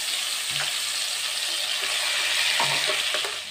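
Marinated fish gravy hisses and sizzles in leftover fish-frying oil for Bengali hilsa dishes, a loud steady frying noise with a few soft stirring scrapes.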